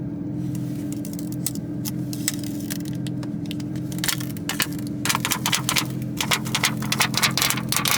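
Protective film is peeled off a Porsche 992 GT3, a close crackling, crinkling tear over a steady low hum, growing denser and louder toward the end.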